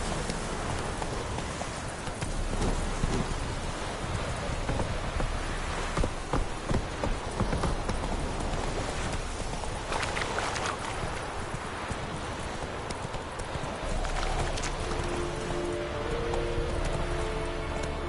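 Galloping hoofbeats of Roach, Geralt's horse in The Witcher 3, drumming steadily and fairly loud through the whole stretch over a dense bed of game ambience that sounds partly like rain, with no talking.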